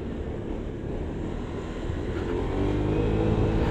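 A stock W-Moto Nexy+ 180 scooter ridden on corners around Balik Pulau, its engine droning steadily close up with low rumble and rising slightly in pitch and strength as it accelerates, no talk heard.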